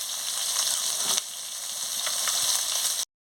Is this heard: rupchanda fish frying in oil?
yes